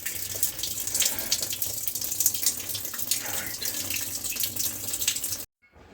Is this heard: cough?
no